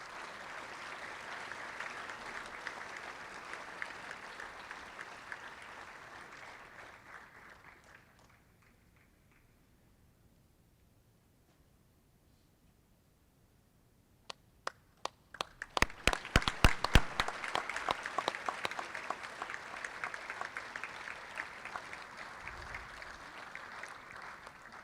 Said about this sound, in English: If you can give one more round of applause for our juniors and Benjamin